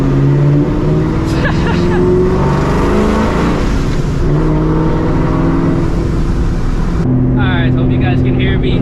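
A supercharged 2004 Ford Mustang GT engine runs loud and steady with a deep droning rumble throughout, shifting pitch at times, then drops to a lower idle-like tone near the end, with faint voices underneath.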